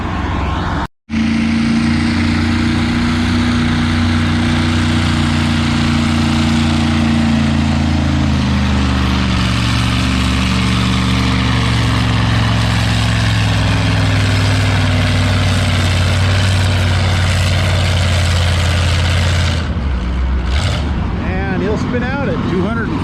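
A vintage W9 tractor with a big stock engine of over 500 cubic inches roars steadily down a pulling track, its deep note slowly dropping in pitch as it labours, then cutting off near the end.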